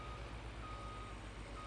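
Reversing alarm from working equipment beeps steadily and close, a repeated tone riding over a deep, rumbling engine drone, with no voices.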